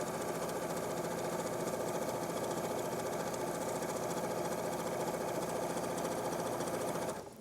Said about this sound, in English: you'll just sew down the rest of the leg as normal